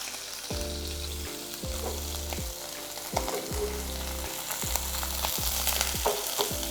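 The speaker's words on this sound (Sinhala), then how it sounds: "ඉක්මනට සැරට ගින්දර දාලා බදින්න පරිස්සම් වෙන්න තෙල් හිසි වෙනවා." Fish frying hard in hot oil in a pan hisses steadily up close, with regular periodic knocks and scrapes, likely from turning or a utensil against the pan, repeating under the sizzle.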